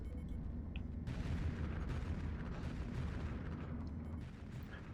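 Enemy gunfire in the space-colony game Space Haven, a dense, continuous barrage of booming shots and bursts that stays loud throughout, with no voices over it.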